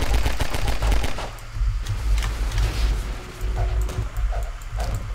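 Sustained gunfire in Half-Life 2 aimed at a headcrab zombie: loud, close bursts of rapid shots with booming low-end thumps, pausing briefly before resuming.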